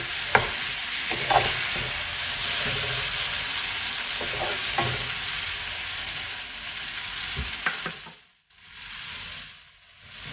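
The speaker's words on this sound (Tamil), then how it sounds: "இப்போ நம்ம வதக்கி வச்சிருக்கிற வெண்டைக்காயை ஆட் பண்ணுவோம். நல்லா மிக்ஸ் பண்ணிக்கோங்க." A spoon scrapes and stirs sautéed okra in a frying pan for Vendakkai Mandi, with a steady close sizzle and several distinct clinks before a brief pause.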